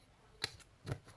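Scissors cut a piece of card for a handmade card box, two quiet crisp snips about half a second apart, close and alone.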